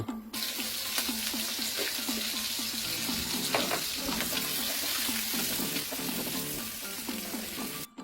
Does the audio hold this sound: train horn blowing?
no